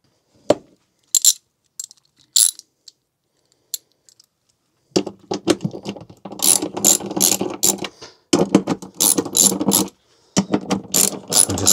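Ratchet wrench undoing 10mm bolts on the frunk of a Kia EV3, close and crisp: sparse single clicks at first, then rapid bursts of ratcheting clatter repeating in quick runs.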